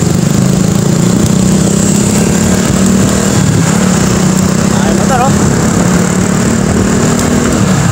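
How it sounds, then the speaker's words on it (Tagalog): Motorcycles riding alongside on a road at 2 a.m. between Alabang and Molino, Cavite, a loud steady engine drone with mid-pitched motor hum throughout, heard close from a rider's position while a person talks over it. "Mga motor kasabay natin."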